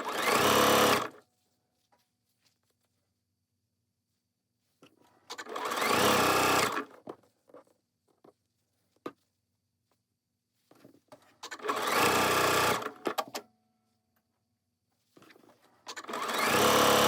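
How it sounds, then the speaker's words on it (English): A sewing machine chain-pieces quilt blocks for a Lemon Star quilt, running in four loud, steady bursts of about a second each, separated by quiet gaps with faint fabric handling between runs. "I'm sewing just one right after another."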